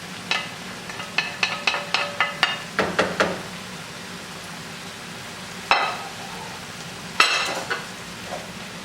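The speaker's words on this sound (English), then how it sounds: "Now I'll add in my garlic." Garlic sizzles in a pan under a soft, steady fry, with a quick series of utensil taps and scrapes early on, then louder stirring clatters later.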